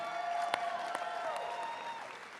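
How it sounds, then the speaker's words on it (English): Audience applause at a youth convention for believers, moderately loud and steady with a few sharp claps standing out, while a sustained musical tone hums beneath. "Can you give them a round of applause for being up here?"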